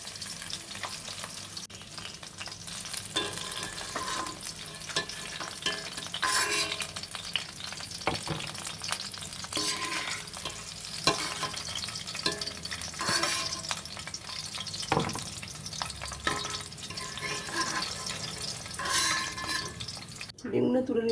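Duck eggs sizzling and spitting in a hot oiled pan, a steady crackling fry with scraping stirs and occasional drips, with a person talking over the cooking.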